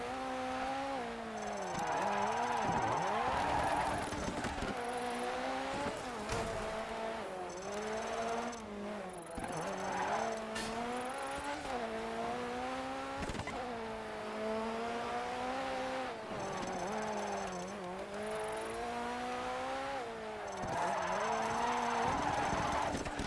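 Rally car drifting in the DiRT 3 racing game, its engine droning steadily and rising and falling with repeated revs as it slides, with tire noise underneath, loud and continuous throughout.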